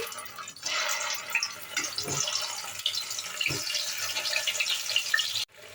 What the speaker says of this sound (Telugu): నూనె వేడైన తర్వాత ముందుగా మనం నించుకున్న వంకాయలను ఒక్కొక్కటిగా వేసి